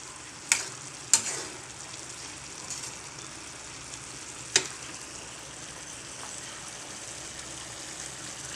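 Pansit with chicken and vegetables cooks in a pan with a steady, moderate sizzle and hiss, broken by a few sharp clinks of a utensil against the pan.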